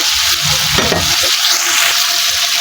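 Meat frying in an old, long-used wok, a steady close sizzle with stirring scrapes and clatter around the middle, loud and continuous for under three seconds with no talk.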